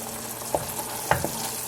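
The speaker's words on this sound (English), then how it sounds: "so the butter is browned" Butter browning in a pan while making berry crumble bars, a steady soft sizzle and fry with a couple of brief clinks or stirs breaking through.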